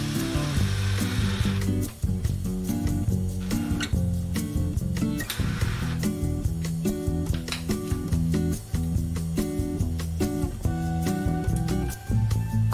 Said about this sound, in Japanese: 切りと電動ドリルで下穴を開けてから、ステンレスビスを打ち込んで固定していきます